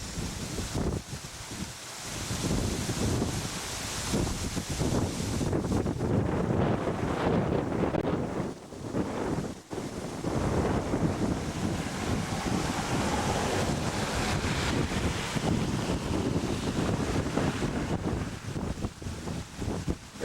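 Strong wind blows steadily outdoors at the entrance of a house, roaring in broadband gusts and buffeting the microphone almost continuously, with a couple of brief lulls.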